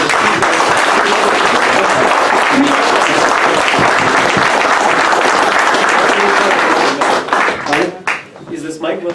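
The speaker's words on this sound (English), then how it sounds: "I'd like to kindly request you to give one grand applause once again" Loud, dense applause from a meeting audience fills the room for most of the stretch, then thins into scattered claps and fades near the end.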